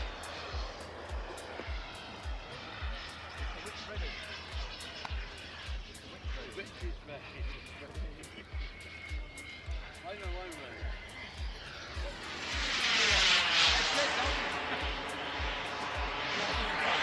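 A model aircraft performs aerobatic manoeuvres at a wing show, its engine whining and shifting pitch at a distance, then surging louder in a close pass near the end, under a rhythmic repeated thumping throughout.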